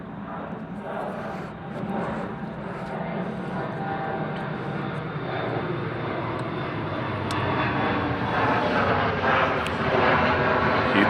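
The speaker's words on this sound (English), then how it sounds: "You'd think they'd put an airport in here or something with all these airplanes flying in and out" Airplanes fly in and out overhead, with a steady, rising engine drone that builds slowly and grows louder toward the end, heard from outdoors with people talking beneath it.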